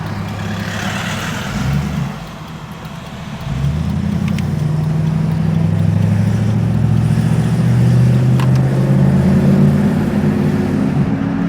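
Daimler 2.5 Litre V8 classic car engine driving at low speed, a steady close rumble that dips briefly then settles into a smooth, continuous drone with mild throttle changes.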